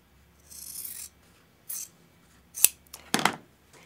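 Scissors snipping through quilt binding fabric strips, a few separate close cuts with soft rasping slides of the blades between them, quiet and without talk.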